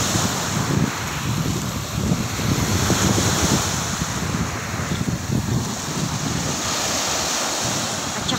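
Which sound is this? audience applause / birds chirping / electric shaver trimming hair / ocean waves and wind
ocean waves and wind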